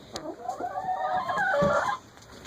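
A rooster gives a loud, close, drawn-out clucking call of about two seconds, standing alone with no talk over it.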